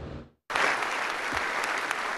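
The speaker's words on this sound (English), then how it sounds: "Senators and House members rose to their feet and applauded loudly at the end of Zelenskyy's speech" Loud sustained applause from senators and House members rising to their feet at the end of Zelenskyy's speech, a dense even wash of clapping after a brief silence.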